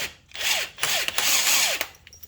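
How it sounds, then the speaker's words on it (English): Impact wrench fitted with a 27 mm socket hammering loose a rear axle nut on a Polaris Sportsman 500 ATV, two close, loud bursts of rattling with a short pause between them. "They use a 27 millimeter socket in the impact to get this off."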